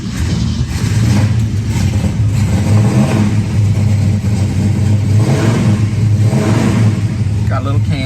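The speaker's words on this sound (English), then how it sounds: "so let's start it up" A cold 1966 Mustang GT fastback with a 4-speed, a small cam and new exhaust runs loud and close, its engine rumbling steadily and rising in several revs.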